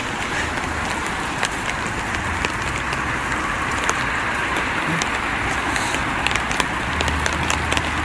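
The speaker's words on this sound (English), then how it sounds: "Got the weather pissing it down the rain." Heavy rain pours steadily onto a street in Japan, a dense, continuous hiss with scattered drips and crackles, close and even throughout with no talking.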